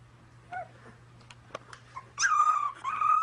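A dog whimpering and growling, heard as played back from a video: soft, scattered whines and yips at first, then a louder, sustained whining cry near the end, with no talk.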